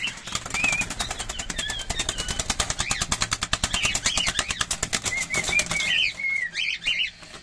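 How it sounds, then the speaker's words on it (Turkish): A cockatiel flaps its wings in a rapid, rhythmic flutter of close beats, mixed with bright chirps and whistles, fairly faint overall, with no talking. "Gördüğünüz gibi kanat açıyor kuş."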